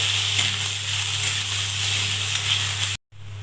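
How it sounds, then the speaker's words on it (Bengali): Chilli leaves fry in a pan over already-fried onions, giving a steady, close sizzle that cuts off abruptly near the end before resuming briefly. "লঙ্কার পাতা ভালো করে ভেজে নেবো"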